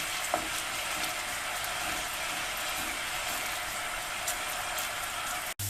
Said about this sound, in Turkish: soğanlarım pembeleşinceye kadar bu şekilde kavuruyorum